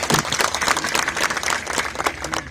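Audience applause at a political speech rally in Pali, Rajasthan, steady dense clapping from a large crowd lasting throughout, loud and continuous without a break.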